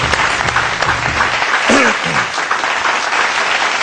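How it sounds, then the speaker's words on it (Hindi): A loud, close burst of audience applause, many hands clapping steadily for several seconds, with a brief voice heard partway through. "तालियां बजाइए"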